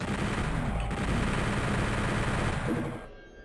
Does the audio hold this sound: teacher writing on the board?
no